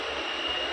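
Local train on the long Somnath to Rajkot route, a steady broadband rumble and rush of the moving carriage filling the whole moment without a break.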